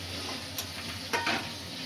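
A spatula stirs chicken and tomatoes in a pan over a soft, steady sizzle, with a couple of brief scraping strokes.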